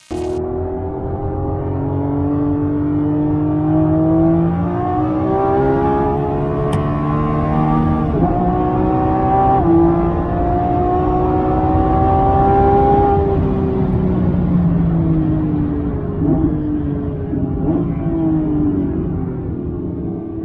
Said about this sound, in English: you guys can hear what it's like for me to be in this thing after doing a couple laps